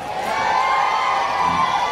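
A room full of children cheer and shout together at a holiday-park science magic show, a loud, sustained wall of voices with no break.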